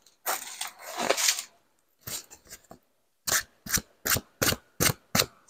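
A stiff diamond painting canvas is flexed close by, giving irregular crackling creaks at first, then a quicker run of regular, sharp crinkling bursts.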